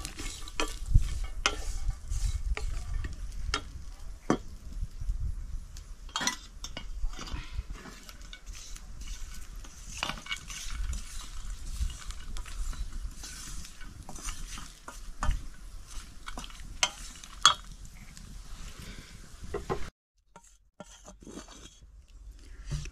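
Masala dry-roasting in a kadhai for a pigeon pea pod curry, stirred steadily with a spoon: close, continuous scraping and soft crunchy rustling with a faint sizzle, ending in a brief quieter stretch.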